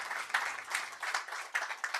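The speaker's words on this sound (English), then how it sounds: "Let's give a round of applause," A small audience claps for panel speakers at the close of an urban governance session, scattered hand claps in a quick uneven rhythm, fairly faint and brief.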